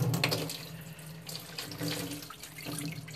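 Tap water runs into a sink to rinse out a dirty RO water filter housing, a continuous splashing stream with brief changes as the housing moves under the flow.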